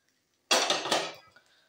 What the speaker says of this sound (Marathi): झाकण काढा, गॅस बंद करा आणि थोडा वेळ थंड होण्यासाठी ठेवा